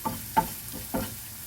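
Prawn masala for prawns kizhi, seasoned with Kashmiri chilli powder, stirred in a pan: a few soft scraping strokes spaced about a third of a second apart over a faint sizzle, close and fairly quiet.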